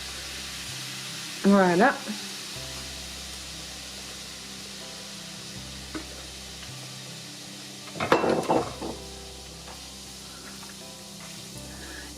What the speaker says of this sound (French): Et maintenant, on va mouiller avec notre bière.